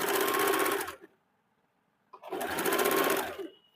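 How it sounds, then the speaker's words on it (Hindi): A sewing machine stitches a half-inch seam along a blouse strip in two steady, loud runs of about a second each, separated by a quiet pause. "अब फिर इस तरह से 1/2 इंच में पूरे में सिलाई कर देंगे।"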